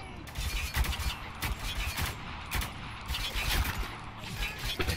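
Bursts of gunfire in the shooter Spec Ops: The Line, repeated sharp cracks and volleys at irregular intervals, moderately loud, with a voice talking between the shots.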